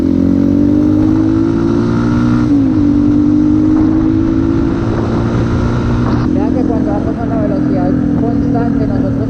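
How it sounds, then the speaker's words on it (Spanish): A motorcycle accelerates steadily with a droning engine tone that climbs, dips briefly at each gear change, then rises again. Someone talks over it throughout. "Cuando sintamos que la moto ya empieza a sonar muy duro, clutch, soltamos acelerador, subimos marcha, volvemos a acelerar"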